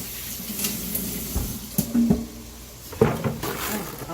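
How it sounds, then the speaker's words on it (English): Running sink tap splashing over hands, a steady wash of water with intermittent clunks and splashes nearby, no talking. "now I need to wash my hands again"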